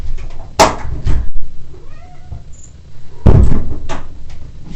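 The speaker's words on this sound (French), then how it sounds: "c'est mon chat qui fait miaou" A domestic cat gives a faint, brief meow indoors, framed by louder knocks and bangs like a door or cupboard closing before and after it.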